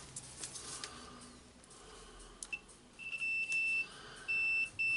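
A multimeter checks the field of a Dewalt D25831 SDS plus rotary hammer drill, giving short high-pitched beeps, intermittent and then longer near the end, over faint background noise.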